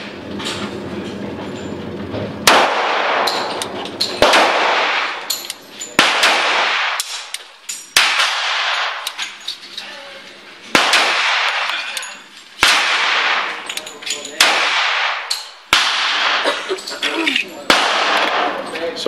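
Shots from a 1911 Commander pistol in .45 ACP ring out during a test fire, about ten loud, sharp reports at fairly even intervals with ringing echoes, over steady background noise and some voices.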